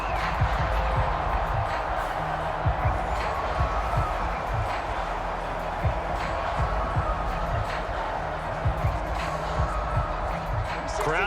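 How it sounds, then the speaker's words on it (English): A stadium crowd in Madden NFL, at a Minnesota Vikings versus New England Patriots game, keeps up a constant broad roar beneath continuous play-by-play commentary. "Crowd getting in it a bit already."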